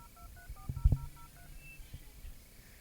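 Telephone keypad dialing tones play as a quick run of short, steady beeps in sequence, moderately loud and alone, followed by a few faint knocks.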